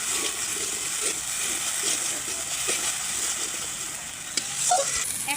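Spices with a light pinch of cumin powder sautéing in a pan for a whole hilsa dish, a soft steady sizzle and hiss with a couple of faint clinks near the end.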